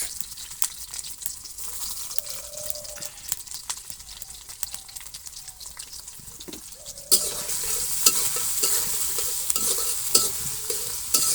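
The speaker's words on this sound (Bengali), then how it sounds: "পেঁয়াজ মরিচ গুলা একটু ভেজে নিই" Onions and green chilies frying in a pan, a soft continuous sizzle with spoon scraping and stirring clatter, growing louder and brighter toward the end.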